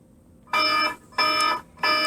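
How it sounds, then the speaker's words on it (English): Alarm sound effect played from an electronic piano in a homemade movie, sounding three loud, even buzzing bursts with short gaps between them, clear and alone. "every police station has a big red light and an alarm"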